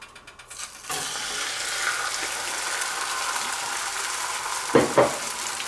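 Egg foo young mix poured into a hot pan, bursting into a loud, continuous sizzle after a brief quiet start, with a couple of sharper spattering pops near the end.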